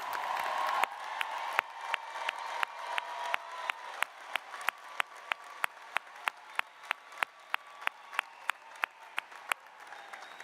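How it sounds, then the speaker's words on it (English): A graduation ceremony crowd applauds the graduates with steady, dense clapping that fills the hall, punctuated by a regular train of sharp, evenly spaced clicks running throughout. "Please recognize all of our graduates by giving them another round of applause."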